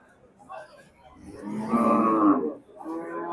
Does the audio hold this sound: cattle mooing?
yes